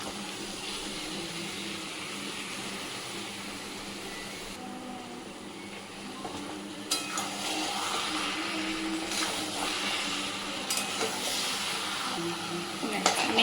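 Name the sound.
desi chicken being stir-fried (koshano) with hot water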